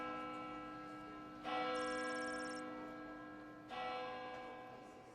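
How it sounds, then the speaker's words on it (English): Church bell tolling in the video game Lil' Guardsman, two resonant strikes roughly two seconds apart, each blooming and slowly fading over a steady tonal hum, distant and fairly quiet with a faint high chime on the first strike. "Bell rings in the distance."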